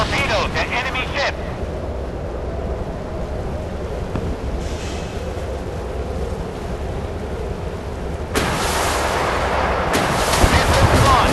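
Missiles launching at an enemy ship in the naval combat game Force of Warships produce heavy rumbling blasts and a loud rushing roar under constant battle noise, with a game voice calling out.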